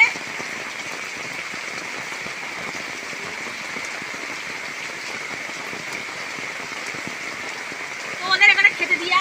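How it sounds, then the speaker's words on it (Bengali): Heavy rain falls steadily on surfaces in a village, a dense, even hiss that stays constant throughout, with a few louder close patters near the end. "প্রচন্ড বৃষ্টি।"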